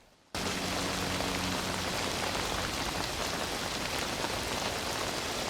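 Heavy rain in a film scene from The Ring cuts in abruptly and then keeps falling as a dense, steady hiss of drops at an even level. A brief low hum fades early on.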